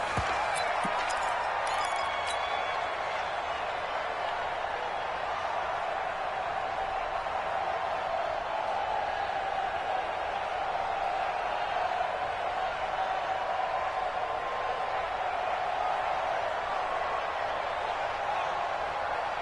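A stadium crowd in a PS4 American football game between plays keeps up a steady, moderately loud murmur and roar, with faint claps early on and no distinct surges.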